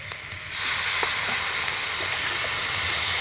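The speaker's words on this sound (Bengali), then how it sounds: "এখন আমি দিয়ে দেবো জল।" Water is poured into a hot pan of shrimp curry with eggplant and capsicum. It sets off a sudden loud, steady sizzle that rises sharply after a brief quieter fry and then holds as a broad hiss, with no voices.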